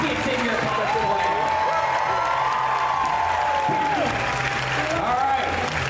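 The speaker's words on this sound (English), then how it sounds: "give a round of applause for pockets in your cosplay" Audience applause fills a cosplay contest at Rose City Comic-Con, a steady, dense clapping wash lasting throughout, with a voice talking over it and a sustained whistle-like tone rising midway.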